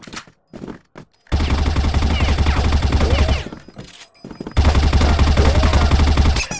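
Automatic M4A1 (Bandage variant) fire in CrossFire Ghost Mode: a few quick single shots, then two long, loud, sustained bursts separated by a short pause, close and dominant with no talk.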